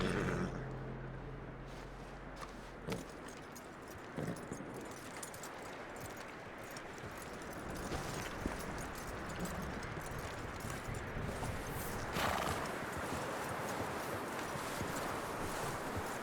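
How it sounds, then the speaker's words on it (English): Hooves clip-clop at a walking pace on ground in Red Dead Redemption 2, with rustling, jangling tack and wind around them; the steps are soft and steady, with no clear neigh. "That looks like a decent horse."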